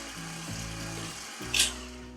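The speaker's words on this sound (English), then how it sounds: "I'm going to mix all that together only until the flour is mixed in" An electric mixer hums steadily at low volume as it blends vanilla cake batter, with a brief scraping swish near the end.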